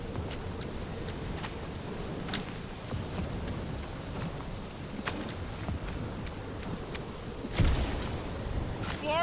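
Thunderstorm in the video game Marvel's Guardians of the Galaxy: a steady rush of heavy rain, with a loud thunder crack near the end.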